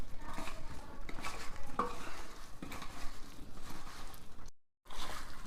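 Onion and mango chutney is stirred into groundnut oil, with a spoon scraping and clinking against the pot over a soft sizzle in an even, close mixing rhythm, broken by a brief gap near the end.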